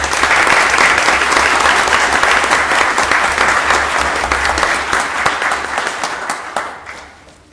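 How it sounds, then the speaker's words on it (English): A round of applause at a county Board of Supervisors meeting, dense steady clapping from a seated crowd filling the room, holding strong before thinning and fading out near the end. "let's have a round of applause"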